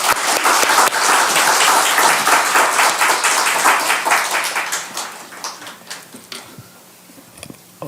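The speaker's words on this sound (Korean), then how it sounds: "목사님 나오실 때 큰 박수로 환영하겠습니다." A church congregation applauds in welcome for a visiting pastor at a revival service, with dense, loud clapping that holds steady for several seconds, then thins out and fades to scattered claps near the end.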